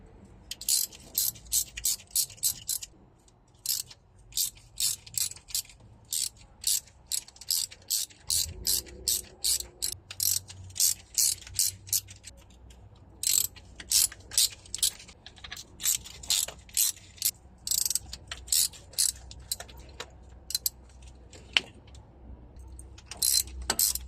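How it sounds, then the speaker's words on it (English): A ratchet wrench loosens the nuts around an engine tappet cover during an oil-leak repair, giving bursts of rapid, close clicking that start and stop repeatedly over a faint background. "now we can remove all of these nuts that surround the Tappet cover"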